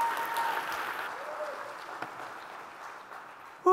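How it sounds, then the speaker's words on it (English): Audience applause at an evening show, a fairly close wash of clapping that gradually thins and softens over a few seconds, ending with a sharp sound at the very end. "Give her another big round of applause."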